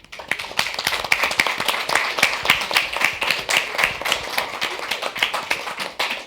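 An audience applauds a technical team at a presentation event, producing many overlapping hand claps in a steady, lively patter at close range that continues throughout.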